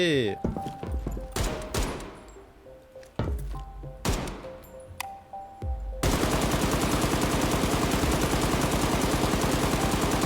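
Automatic AK rifle fire in a PvE extraction shooter game, loud and close: a few separated bursts and single shots early on, then a continuous unbroken stream of rapid fire for the last four seconds.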